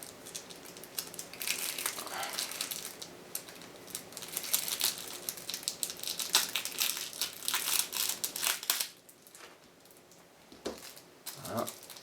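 Plastic packaging on a Marvel Champions board game box crinkles and crackles in bursts of handling noise, loud and close, with a brief quieter pause before a final few rustles.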